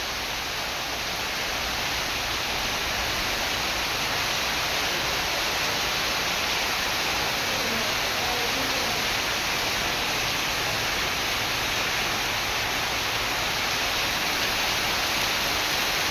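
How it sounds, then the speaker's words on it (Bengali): Heavy rain pours over a hilly garden, a dense, steady broadband hiss that stays loud and unbroken throughout with no voices. "প্রচণ্ড বৃষ্টি হচ্ছে"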